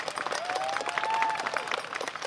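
An outdoor crowd at a protest rally in front of Government House in Bangkok breaks into applause, a steady wash of many hands clapping at a moderate distance, with a brief whistle-like tone rising over it.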